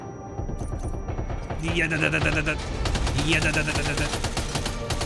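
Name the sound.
gunfire from a weapon in the video game Death Stranding 2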